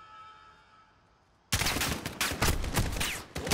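Sudden loud burst of rapid gunfire erupts after a quiet stretch of ambient game sound in Call of Duty: Modern Warfare, with dense automatic shots continuing close and heavy for the rest of the moment.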